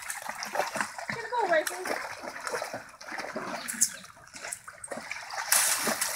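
Charlie splashes in water after a ball. Irregular, fairly close splashes and trickles come and go beneath chatter from a child and adults.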